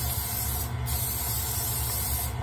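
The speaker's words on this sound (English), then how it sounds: "We're going to go ahead and grease this pan." Cooking spray hisses steadily into a baking pan for a couple of seconds, close and fairly loud, ending with a brief clack near the finish.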